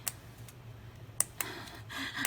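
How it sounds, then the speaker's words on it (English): Dollar Tree scissors cutting through floral wire, heard as a few sharp, isolated snipping clicks spaced apart over a quiet background hum, with no talking. "Let's try scissors."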